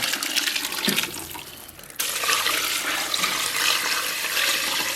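Water poured into a pressure cooker pot holding beef bones and stir-fried seasonings, a rushing gush that swells after a brief dip, loud and close, with no voices.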